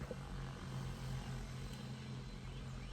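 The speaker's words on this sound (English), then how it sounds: "It's a huge drone spraying the field." A large agricultural drone spraying a field whirs overhead in the distance, a faint, steady propeller hum that holds level throughout.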